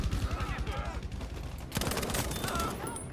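Gunfire in the Battlefield V video game, a rattle of rapid shots at moderate volume, intensifying into a louder burst partway through, with talking voices over the top.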